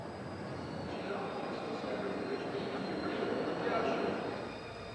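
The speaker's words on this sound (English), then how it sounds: "Lahore railway station is buzzing like a kicked beehive" Crowded din at Lahore railway station: a steady wash of many voices and rumbling rail noise, with train sounds swelling faintly in the background.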